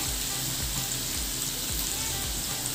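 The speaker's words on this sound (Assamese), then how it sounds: "বছ এবাৰ এইখিনি ফ্ৰাই দিছোঁ" Chicken pieces for chicken manchurian frying in hot oil, a steady close sizzle and crackle with no pauses and no voices.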